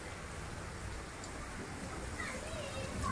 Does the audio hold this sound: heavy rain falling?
yes